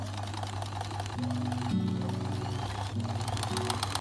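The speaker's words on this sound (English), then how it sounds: "Now I'm sewing the strips to the masks." A sewing machine stitches fabric strips onto cloth face masks, a close, rhythmic mechanical chatter that runs for about four seconds with small shifts in pace.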